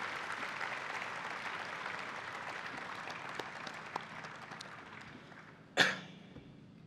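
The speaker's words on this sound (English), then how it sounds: "let's all take a second to give a round of applause to both classes" An audience applauds graduating classes of 2021 and 2022 with a soft, fading patter of clapping, followed by a single loud cough or throat-clear close by, then quiet.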